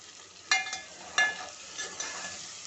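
Cumin seeds and chopped garlic fry in oil in a pan, a soft steady sizzle broken by a couple of sharp spoon scrapes and stirs, close and fairly quiet with no talking.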